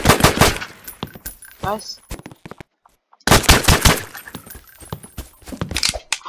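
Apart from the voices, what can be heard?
assault rifle firing in a Roblox FPS video game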